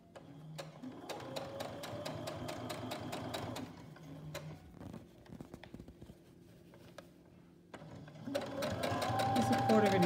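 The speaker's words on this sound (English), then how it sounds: "so now you can sew down" A sewing machine stitching a rhino mask, running in rapid mechanical bursts with a brief stop in the middle before starting again louder, heard up close while a person talks over it.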